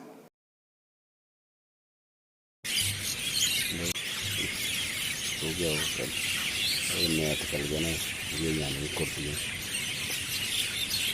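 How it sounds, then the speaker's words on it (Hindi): Dense chorus of many birds calling together at dawn, continuous and busy, after a brief silent start, in Orchha, Madhya Pradesh. "हजारों की संख्या में चिड़िया यहाँ पर आती हैं और कुछ इस तरह आवाज़ करती हैं।"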